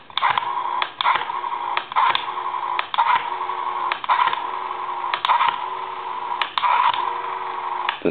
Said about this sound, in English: we're going to go ahead and dial some numbers